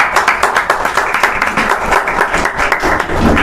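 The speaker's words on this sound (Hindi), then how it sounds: "तालियां बजती रहनी चाहिए।" A large audience claps continuously and loudly at a ceremony honouring top-scoring Uttarakhand board exam students, dense steady applause throughout with no pauses.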